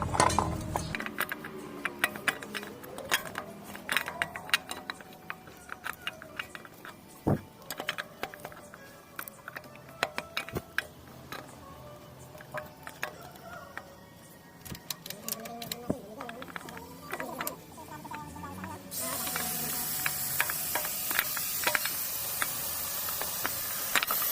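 Screws go back into a Honda TMX125 engine cover with quick metallic clicks and rapid ratcheting taps, close and irregular, under occasional talk and a louder steady hiss near the end.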